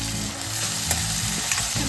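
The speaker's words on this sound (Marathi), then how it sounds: "Next goes in finely chopped tomato." Finely chopped tomato drops into a hot pan of oil and chillies, setting off a steady loud sizzle and frying crackle that runs without a break throughout, with no talking.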